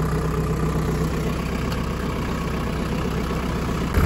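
Steady idle of a 40 horsepower non-turbo tractor engine, a constant low rumble held close and loud throughout with no talk over it.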